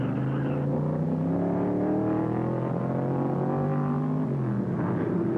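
Race car engines roar during a Trans Am race, a steady droning whine with shifting pitch as cars run in a pack, continuous and moderately loud without talk.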